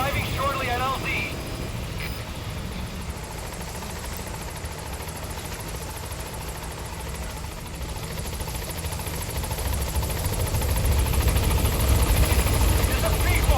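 A P-Quad support helicopter from Metal Gear Solid V approaches the landing zone, its steady rotor drone growing louder toward the end, under radio voices.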